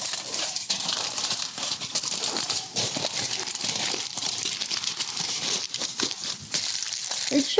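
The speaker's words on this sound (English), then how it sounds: "move the foil down into the corners of the pan" Aluminium foil being pressed down into the corners of a pan for no-bake fudge, continuous close crinkling and crumpling with bright rustles throughout.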